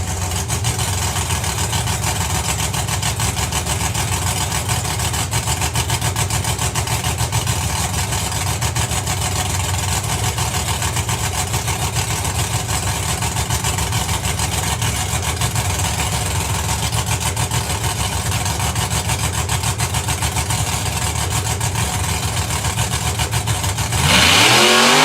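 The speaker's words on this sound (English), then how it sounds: "What a glorious noise that car makes." A drag racing car sits at an FIA Euro Finals strip with its loud, thick engine idle rumbling steadily and without a break, then a sharp rev rises at the very end.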